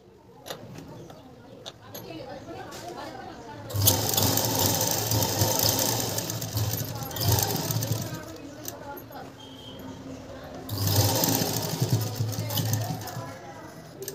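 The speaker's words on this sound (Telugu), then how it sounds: "ఇలా ఎడ్జ్ కుట్టుకుంటూ లాస్ట్లో లాక్ చేసేసాను." A sewing machine stitches along the edge of a blouse lining in bursts of whirring run, with quieter pauses between, heard close and moderately loud.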